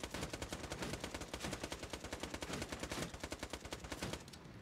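Rapid, loud bursts of automatic gunfire aimed at robots in Borderlands 2, the Captain Scarlett pirate DLC, firing in a dense steady rhythm for several seconds before easing off at the end.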